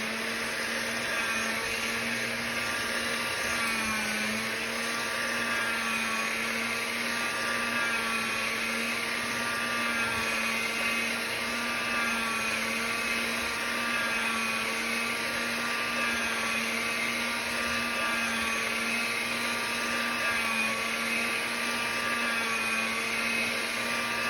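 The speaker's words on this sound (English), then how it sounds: "I'm going to mix them by rolling them in the pasta machine." A pasta machine rolls polymer clay sheets to mix colours, giving a steady, loud motorised whir with a constant hum that runs unbroken throughout, with no talking.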